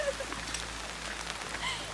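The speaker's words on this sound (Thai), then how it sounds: "ตอนนี้นะคะฝนตกหนักมากเลยนะคะ" Heavy rain falling outdoors by a riverside, a dense continuous patter and hiss on surfaces, with faint voices underneath.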